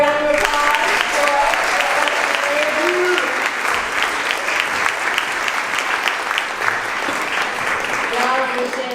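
An audience at a Martin Luther King breakfast event applauds steadily and loudly for the full stretch, a dense wash of clapping with faint voices mixed in.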